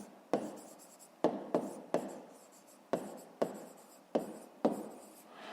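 A pen scratches on paper while a 5th-grade math exercise is worked by hand, making about nine short, crisp strokes in an irregular rhythm, close and quiet, with no talking.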